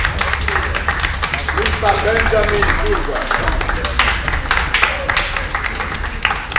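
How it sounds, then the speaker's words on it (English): An audience claps steadily as a guest walks up to the podium at an event, the applause continuous and fairly loud under a voice announcing him. "Keep clapping as you come. Keep clapping, keep clapping."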